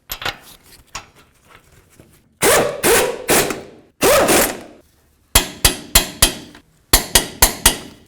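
Caliper bolts on a Ford F250 are run in and torqued, heard as a series of sharp metallic clacks and ratchet bursts in uneven groups, loud and close, with quiet pauses between.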